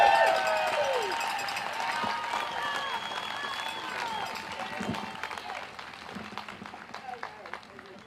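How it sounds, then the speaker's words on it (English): An outdoor crowd at a democracy march applauds and cheers, with sustained clapping and scattered whoops fading gradually, while voices carry over the noise. "let's give him a round of applause for his efforts in the Texas House of Representatives"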